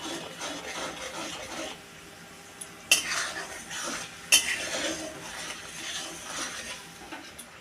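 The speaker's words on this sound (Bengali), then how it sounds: "জিরের গুঁড়ো লঙ্কার গুঁড়ো নুন মশলাটা আমি ভালো করে কষিয়ে নেব" A spoon scrapes and stirs a cumin, chili and salt spice mix as it sautés in a pan, with soft rubbing strokes and two sharp metallic knocks against the pan.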